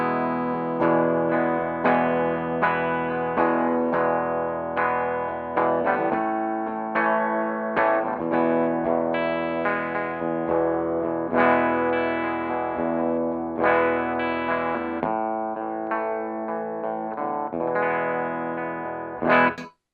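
A Gibson SG Standard electric guitar on its bridge humbucker plays a steady strummed and picked passage in a clean-ish tone with slight grit and chorus-like shimmer. It stays loud and close throughout, with no voice over it.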